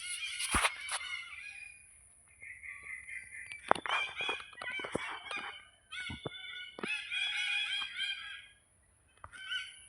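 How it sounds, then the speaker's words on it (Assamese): Parrots call loudly at close range in repeated harsh, honking squawks, bursts of raucous cries separated by brief quiet gaps, with no talk over them. "ভাটৌ চৰাইৰ পূৰা আৱাজ ওলাই আছে একবাৰ আপোনালোকক শুনাই আছোঁ শুনিব"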